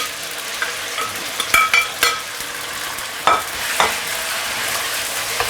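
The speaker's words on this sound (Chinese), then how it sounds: "我们先给它慢慢去煸炒它。" Lamb stir-fried with ginger slices and scallion over maximum heat in a hot wok gives a steady, close sizzle, with a few sharp scraping and clinking strokes of a spatula against the pan. No one speaks.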